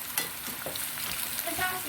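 A brief, close sizzle of banana slices caramelizing with brown sugar in a pan, with soft stirring scrapes over a constant frying hiss.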